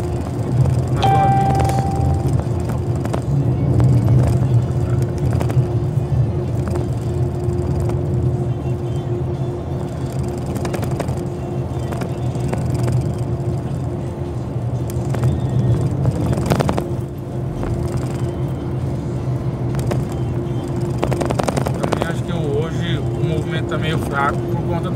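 A loaded truck drones along the BR-163 highway in Brazil with a steady low engine hum and road noise, and someone talks over it throughout.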